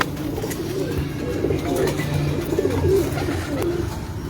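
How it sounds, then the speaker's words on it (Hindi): Lal Pari teddy pigeons coo in a steady low murmur, several birds overlapping in soft repeated calls close by, with faint background rustle and no talking. "ये लाल परी वाले टैडी कबूतर हैं।"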